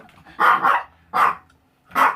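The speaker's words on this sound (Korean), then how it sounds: "짖지마 저녁이야" A dog barks three times at close range, two quick barks then single ones spaced about a second apart, loud and alone.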